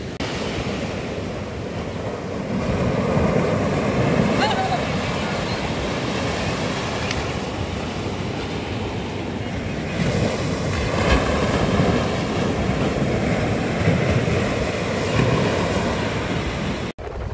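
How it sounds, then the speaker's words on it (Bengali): Rough sea waves roll in at Bakkhali beach under dark clouds, a loud, continuous roar of surf with swelling crashes and gusty wind buffeting the microphone. "পুরো ওলটপালট হয়ে যাচ্ছে এখানে সমুদ্র একদম"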